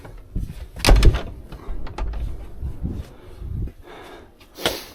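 A door is shut with a solid thud early on, followed by quieter shuffling and handling noises on a wet, windy morning before a mountain marathon run.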